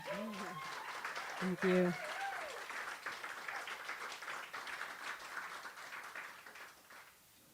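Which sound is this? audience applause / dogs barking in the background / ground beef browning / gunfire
audience applause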